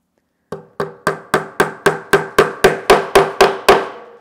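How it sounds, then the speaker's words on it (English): A nail being hammered into a wooden lap desk: about twelve sharp, evenly spaced blows, each ringing slightly as it fades, growing a little louder toward the end, close up with no talk. "let's hammer off that second nail"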